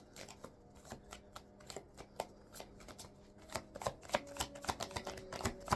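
Cards of a tarot deck being shuffled up close, a run of crisp riffling flutters and soft slaps that grows busier and louder toward the end, with no voices.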